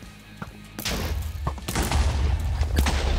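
Gunfire from the Rage Mode minigame: a sharp shot near the start, then a sustained loud burst of rapid firing and booming impacts over a low rumble, with a few distinct cracks standing out.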